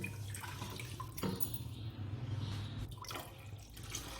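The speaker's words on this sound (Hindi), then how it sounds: "अब इसमें हम 2 लीटर पानी डाल के" Water pours steadily into a pressure cooker for haleem, a continuous splashing stream with a few brief clinks, fairly close and without any talking.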